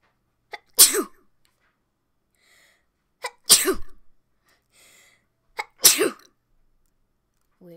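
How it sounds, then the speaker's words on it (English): Three loud sneezes, each sharp and close to the microphone, spaced a couple of seconds apart with quiet in between, over Roblox Murder Mystery 2 gameplay. "That was me sneezing."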